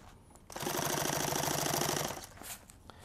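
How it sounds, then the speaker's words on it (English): A sewing machine runs a rapid, steady stitch for about a second and a half, stitching through three layers of apron material along a top edge, with quiet handling noise before and after. "when I'm sewing this top edge, I'm going through 3 layers of material"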